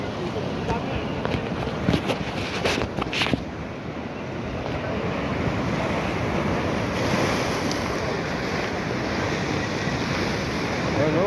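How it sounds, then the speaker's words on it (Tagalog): Strong ocean waves surge and wash continuously along a shoreline during a fishing outing, with steady surf roar and wind buffeting the microphone throughout. "Ang lakas ng alon,"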